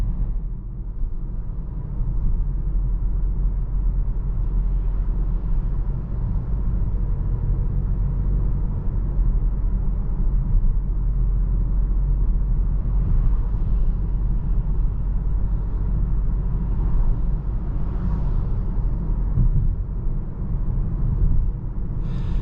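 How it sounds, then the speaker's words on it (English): Steady low road rumble and muffled hum inside a 2022 Volvo XC40 T5 R-Design cruising at about 35 mph, a quiet, even cabin drone with no talk over it. "About 35 miles an hour, it's very quiet in here."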